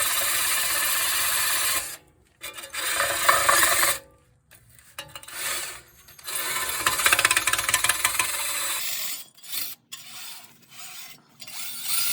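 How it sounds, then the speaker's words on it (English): A power wire brush scours the ball joint bore of a Volvo P2 (S80, S60, XC70, XC90), giving loud harsh grinding bursts broken by brief pauses, close and without talk. "go ahead and clean up the inside of that. A wire brush."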